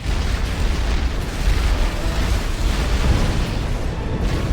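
Artillery barrage explosions in the real-time strategy game Halo Wars, heard as a continuous, dense rumble of booms and bursts at steady loudness throughout.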